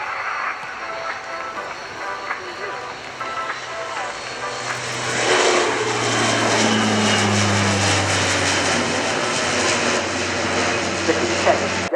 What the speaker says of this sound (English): The aileron roll is a highly demanding maneuver for such an heavy carrier as this